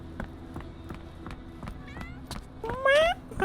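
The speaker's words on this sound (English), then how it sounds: "I hear a cat." A cat meows in the Sherlock Holmes: The Awakened (2023) video game, a few short rising calls near the end over footsteps and ambient game sound.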